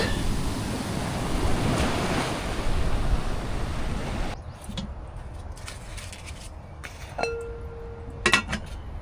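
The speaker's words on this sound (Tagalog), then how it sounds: "Look at the waves." Ocean waves break on a white sand beach at sunrise, a loud continuous surf wash with wind buffeting the microphone that drops suddenly midway to a quieter roll with light clinks and a faint tone.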